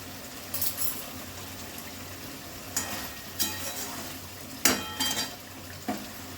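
Butter added to a pan of palak paneer gives a soft sizzle beneath clanks and scrapes of a spoon stirring against the pan, in several short bursts over a steady frying hiss.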